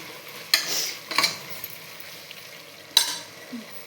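Turmeric being stirred into a frying spice mixture in a pan for menthe bath: three sharp scraping strokes of a utensil against the pan over a low, steady sizzle, close and moderately loud, with no talking.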